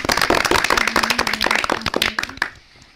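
A studio audience at a children's radio quiz show claps loudly, a dense burst of hand claps sustained for over two seconds, then thinning out and fading, with a faint steady tone underneath.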